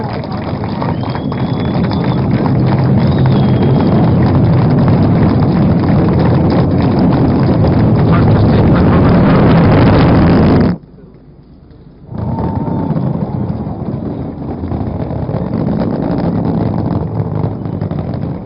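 An LVM3 rocket lifts off carrying Chandrayaan 3, its dense, loud rumbling roar heard through band-limited broadcast audio; the roar drops out briefly around the middle, then returns somewhat quieter.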